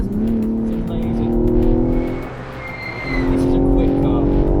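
A BTCC race car driven fast on track, its engine droning loudly with rising and falling pitch as it accelerates, eases off and pulls again, with a voice talking faintly over the noise.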